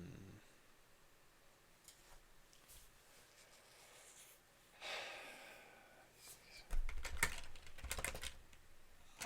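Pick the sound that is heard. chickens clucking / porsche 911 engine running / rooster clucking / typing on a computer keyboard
typing on a computer keyboard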